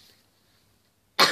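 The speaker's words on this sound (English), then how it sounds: "I keep coughing because I've got a cold" A single sharp, harsh cough from someone with a cold bursts out suddenly and close after near silence, loud and breathy.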